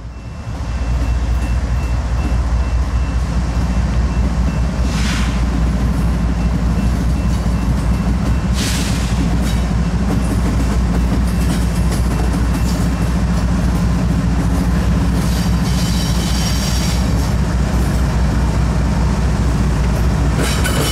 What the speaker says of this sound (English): The new crew aboard E904 gets their train up to track speed as they cross the diamond heading for the Wilmington subdivision.